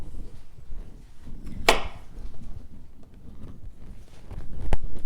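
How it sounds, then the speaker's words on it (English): A knife chops the ends off a cucumber with two sharp, close chops a few seconds apart over faint background noise. "I'm going to chop off the ends of the cucumber"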